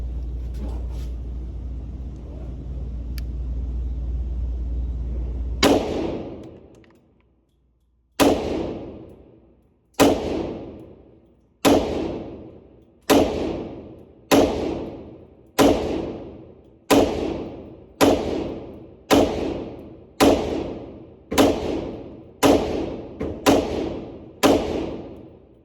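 A suppressed PSA 5.7 Rock pistol fires about fifteen evenly spaced shots, each a sharp, muffled crack with a short decaying tail. The shots follow a stretch of low rumbling background noise.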